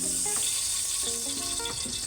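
Marinated fish, rubbed with ginger-garlic paste, frying in hot oil in a pot, a steady close hiss of sizzling oil with no voices.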